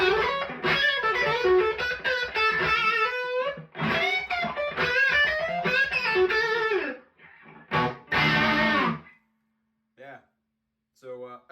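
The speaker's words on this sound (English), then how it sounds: "And this is a noisy guitar." Electric guitar played through a Tone City King of Blues overdrive pedal, strummed chords and riffs with crunchy drive, pausing between phrases and ending in short bursts with quiet gaps.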